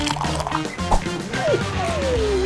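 Water is poured into a cup for a homemade pet gadget, a short trickle rising in pitch as the cup fills, heard over background music.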